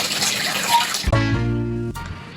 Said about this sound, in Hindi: पानी गिरने की आवाज कहाँ से?